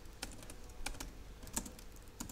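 Quiet typing on a computer keyboard, entering an xdotool command in a Linux terminal, sparse soft key clicks spaced irregularly, close up, with no talking.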